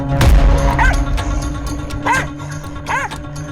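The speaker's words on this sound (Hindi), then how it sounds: "आवारा कुत्ता उसके पीछे पड़ गया।" A stray dog barks and yips several times in quick succession over a noisy outdoor background, fairly loud and close.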